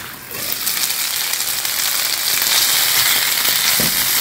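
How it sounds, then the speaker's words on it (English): Pork frying in its own rendered fat over low heat gives a steady close crackling sizzle with small pops, continuous and broadband throughout. "My pork is on low heat."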